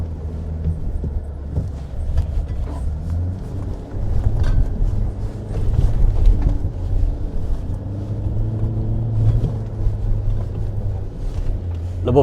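A diesel GWM Poer pickup truck accelerates steadily across loose sand, its low engine drone continuous and fairly loud, with gusts of wind noise and some faint talk over it.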